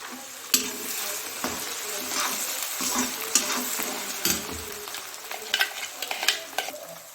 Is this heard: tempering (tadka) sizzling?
yes